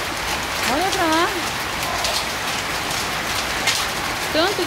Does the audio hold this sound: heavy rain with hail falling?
yes